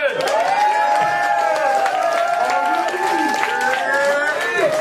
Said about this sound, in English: Start clapping right now for Bonnie Drummond.